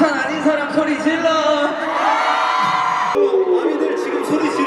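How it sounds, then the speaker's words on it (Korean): Loud crowd of fans screaming and cheering at a concert in Busan, a continuous dense wall of shrieks and whoops that swells, pauses abruptly for an instant, then resumes at full volume. "부산 아닌 사람 소리 질러!"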